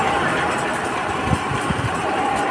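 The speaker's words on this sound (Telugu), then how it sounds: "బండి సౌండ్ కూడా చూసుకోండి" A two-wheeler engine idles steadily at a petrol station right after a carbon cleaning service, a continuous rough low hum close by with a few faint knocks, no voices.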